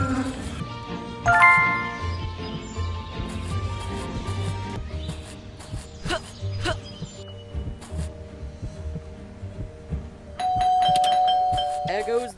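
Doorbell-like bell chimes in the video game Scary Teacher 3D, bright tinkling tones ringing at intervals, with a longer ringing burst near the end over game music and effects.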